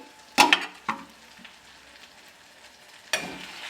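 Tomato masala stir-fried in a pan for an aloo, brinjal and drumstick dish, a faint low sizzle with a few sharp scrapes and knocks of the spatula, close and sparse.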